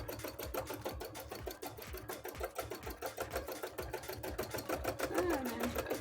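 A sewing machine stitches into a foam bra cup with a rapid, even rhythmic chatter running throughout, moderately close, with a faint voice briefly underneath.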